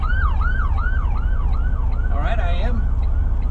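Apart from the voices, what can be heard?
ambulance siren passing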